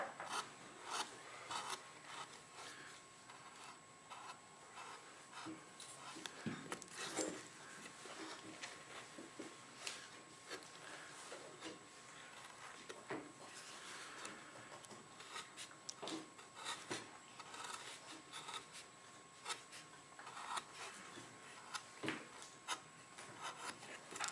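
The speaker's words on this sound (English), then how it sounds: "you use your V-tool, or you could get a gouge out" Wood being carved by hand with a V-tool for a caricature figure, giving quiet, continuous scraping and rasping strokes with scattered sharper cuts, close and faint.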